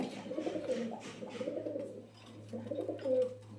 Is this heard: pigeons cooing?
yes